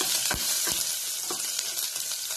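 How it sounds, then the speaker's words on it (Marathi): Cumin, mustard seeds, curry leaves and slit green chillies hit hot oil with a loud, dense, continuous sizzle, with a few crackling pops near the start. "हे बघा तेल चांगलं गरम झालेलं आहे. जिरे, मोहरी आणि पत्ता आणि मधून कट केलेली मिरची हे घालून मिश्रण चांगलं हलवायचं."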